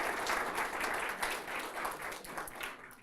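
Soft, steady audience applause greets Professor Erica Kohl Arenas before her lecture on philanthropy and poverty, heard at a modest distance with no talking over it.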